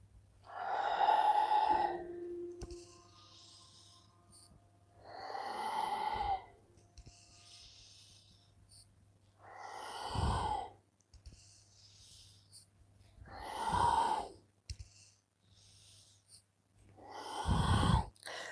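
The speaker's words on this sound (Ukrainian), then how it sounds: "Ми просто дихаємо вдих і видих, трошки подовжено" Slow, drawn-out breaths during a spine-relief stretching exercise, five long airy inhale-exhale swells spaced a few seconds apart, close and fairly soft over a low steady hum, with no talking.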